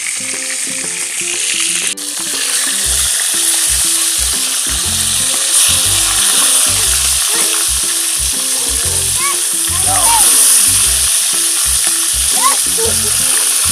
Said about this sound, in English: So the fish is frying